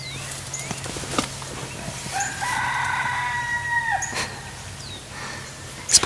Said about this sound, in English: There's wild roosters all over the place. They're cockadoodle doing their heads off.